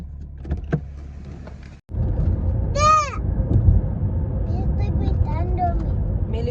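A Chevy Malibu with P0016 and P0017 codes drives along, its low engine and road rumble steady and close, broken by a brief cut near two seconds and by occasional squeaks and chirps.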